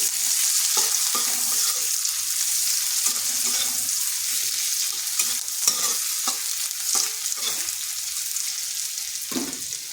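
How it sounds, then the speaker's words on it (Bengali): Sliced onion frying in a pan for a bitter gourd dish, a steady close sizzle with intermittent scraping stirs throughout, no talking. "পেঁয়াজটাকে হালকা একটু ভেজে নিচ্ছি।"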